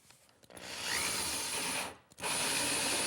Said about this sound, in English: Now it's just a matter of drilling it through.